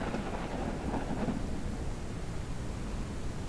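Heavy rain and thunder in the video game Ranch Simulator, a dense steady downpour hiss with a low rolling rumble of thunder swelling briefly in the middle, continuous and fairly even.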